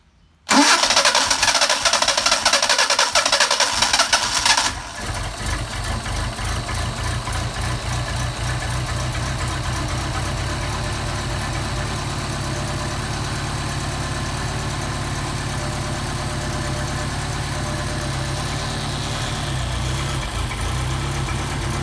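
A Mercedes 190SL fitted with Solex carburetors cranks and catches after a few seconds, then settles into a steady, close, lumpy idle that runs on alone.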